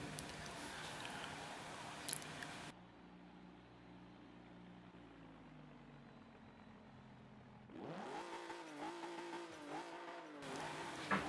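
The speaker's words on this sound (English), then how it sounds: "a quick inside view of a Maserati, a few revs and I'm off" Maserati engine in Forza Motorsport 7 at Indianapolis Motor Speedway's Grand Prix circuit, a low idling drone with muffled interior sound, then a few sharp revs rising and falling near the end.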